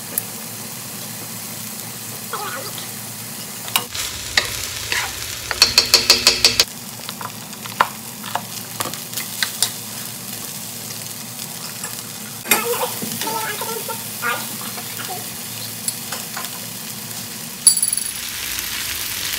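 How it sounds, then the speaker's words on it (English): Fried rice stir-fried in a pan with butter, garlic salt and crushed pepper flakes: a steady close sizzle runs throughout, with scrapes and clinks of a utensil against the pan, including a quick burst of rattling strokes near the start. "I'm gonna throw them into the fried rice."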